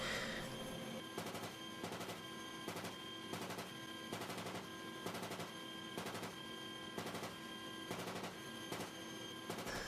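Archival WWII aerial combat footage of fighter plane machine guns firing, a loud, steady stream of rapid bursts that repeat throughout, with rhythmic pulses punctuating the continuous gunfire and no speech.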